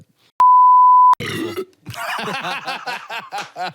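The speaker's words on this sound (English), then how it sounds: "Need a belch counter for this episode." A long, loud burp follows a brief steady censor beep and rolls into a run of rhythmic, croaking bursts.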